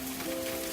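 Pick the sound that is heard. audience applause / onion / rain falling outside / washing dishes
rain falling outside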